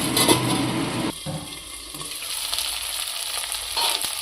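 Spice masala sautéing in a covered pan for a goolie and spinach dish, a loud steady sizzle and crackle with a brief scrape of stirring partway through, close and alone.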